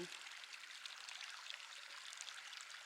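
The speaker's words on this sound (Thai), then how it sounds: "ลองเงียบ ฟังเสียงน้ำตกน้ำไหล" A steady, hissing rush of waterfall and flowing water at Phu Kradueng fills the space, soft and continuous without any pauses.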